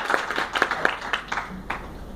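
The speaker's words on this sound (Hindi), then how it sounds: "जोरदार तालियां इस मिशन को बनाए रखने के लिए" Applause at a Congress Party Unity Day event, scattered clapping with sharp individual claps in a moderate, uneven rhythm, fairly close and not very dense, with a short low hum partway through.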